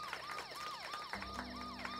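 Wailing police sirens in the video game Golf With Your Friends sweep up and down repeatedly, layered and electronic-sounding, fairly quiet and continuous throughout.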